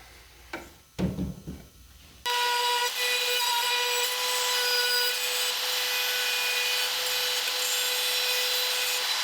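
A router bit trimming the edges of Formica countertop laminate, a steady loud whining cut that starts abruptly after a few faint handling knocks and runs on evenly to the end.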